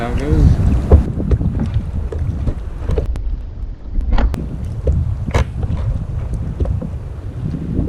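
Gusty wind buffets the microphone on a kayak out at sea on a bumpy saltwater fishing day, a heavy low rumble with scattered knocks and splashes close by.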